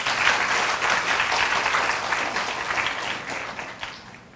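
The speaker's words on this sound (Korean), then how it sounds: "큰 박수로 맞이해 주시기 바랍니다." An audience at a university orientation for new and transfer students applauds to welcome the president, a dense, sustained round of clapping that gradually tapers toward the end.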